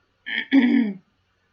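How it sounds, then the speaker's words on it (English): A single short, rough throat-clearing cough bursts out close by, two quick pulses lasting under a second, then silence. "he's really got a bad cough"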